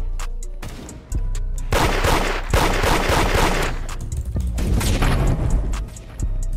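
Rapid video-game gunfire from the Roblox game Da Hood, a dense, loud barrage of overlapping shots and booms that runs almost continuously throughout, close and unbroken.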